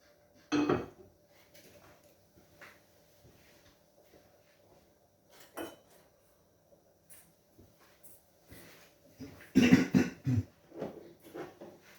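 A pan set down on a stove while making a three-egg omelette, with a sharp metallic clatter at the start, another knock midway, and a busier burst of pans and cutlery clinking near the end, quiet in between.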